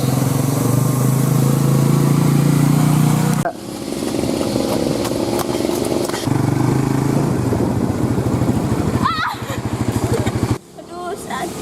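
Motorcycle engine idling and running close by, a loud steady rumble that shifts and cuts abruptly, with people talking over it.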